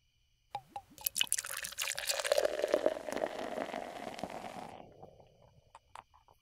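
Liquid glugs from an empty beer bottle in The Sims 4, a few drips leading into a steady pour that fades out after a few seconds, with no talking.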